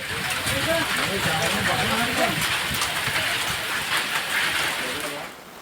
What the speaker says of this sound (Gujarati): મુશળધાર વરસાદથી અહીં પણ જનજીવન પ્રભાવિત થયું।